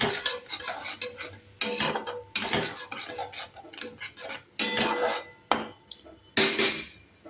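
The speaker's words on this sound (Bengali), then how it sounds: "তারপর সমস্তটাকে বেশ ভালো করে কষিয়ে নেব" Duck egg curry masala with turmeric and a splash of spice-rinse water is stirred and fried down in a pan, a metal spoon scraping and clinking in repeated bursts of varying loudness, close up with no talking.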